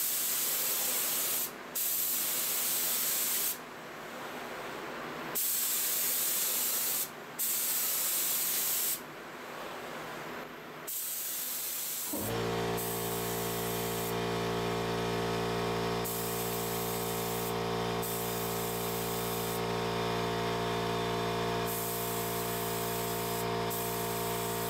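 A Husky HVLP spray gun sprays in a loud, continuous hiss, first in several short bursts with gaps, then switching to a steadier, more droning spray that runs unbroken to the end.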